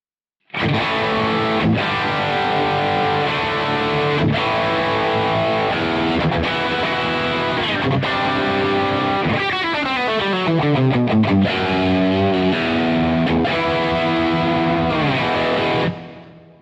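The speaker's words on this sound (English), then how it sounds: "I always use that Boss Wazacraft amp for real high gain tones" An electric guitar plays through a Boss Waza Craft amp set for high gain, a loud, heavily distorted sustained chord ringing for about fifteen seconds with a descending pitch bend in the middle before cutting off.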